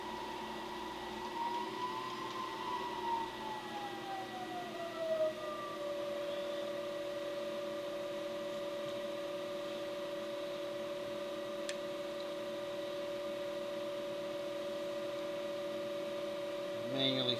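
A machine shop mill running in low range to tap a hole for a motorcycle brake lever guard hums steadily, its motor tone gliding down and settling into a sustained whine, with faint mechanical ticks and quiet room noise.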